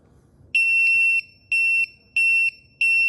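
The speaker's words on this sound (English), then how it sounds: "And you can hear the alarm here." A timer alarm goes off with loud, shrill electronic beeps, one long tone followed by three shorter ones at an even rhythm, clear over a quiet background.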